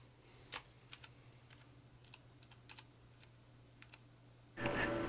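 Quiet keystrokes on a computer keyboard tap out in scattered short bursts over a low steady hum, ending in a brief louder rustle.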